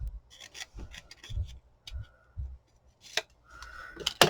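Scissors cutting paper at the sides, a series of close crisp snips and rustling slides in irregular bursts with quiet pauses between, no talking.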